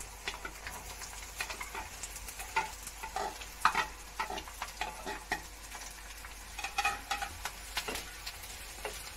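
Sliced onions sautéing in sesame oil in a pan for dry fish poriyal, a steady close sizzle broken by repeated scraping and stirring strokes throughout, with no talking.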